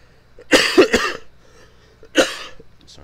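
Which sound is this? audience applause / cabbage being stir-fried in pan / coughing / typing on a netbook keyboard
coughing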